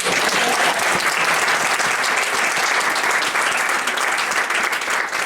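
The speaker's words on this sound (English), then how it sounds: "I think he needs a special clap." A group bursts into steady, close applause for a volunteer at an outdoor community event, dense continuous clapping holding at a loud, even level throughout without voices.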